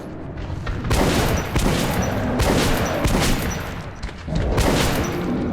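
Gunfire in the post-apocalyptic shooter Metro 2033: loud, close bursts of rapid shots in several volleys, separated by short pauses and echoing tails.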